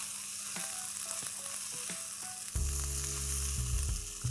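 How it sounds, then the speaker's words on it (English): A whole egg hits a pan on high flame with vegetables already frying, and a loud, steady sizzle jumps up sharply partway through, following lighter clatter and stirring. "this is a whole egg which goes straight in."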